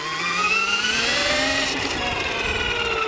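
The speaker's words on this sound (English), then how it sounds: "You can hear the engine braking. That was regenerating power." An Electric Motion Epure electric trials bike whines steadily under regenerative engine braking, a continuous close motor tone with gliding pitch lines and no speech.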